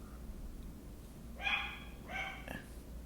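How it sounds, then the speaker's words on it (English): A dog barks indoors in another room, two or three muffled yips, faint and somewhat distant over a low background hum. "Mackenzie, shut your dog up. I'm filming."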